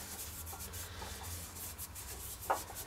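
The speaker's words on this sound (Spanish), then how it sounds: "yo siempre le paso una lija de estas finas" Quiet, rhythmic rubbing strokes of fine sandpaper on a Vespa engine's metal part, close up, with one sharper scrape near the end.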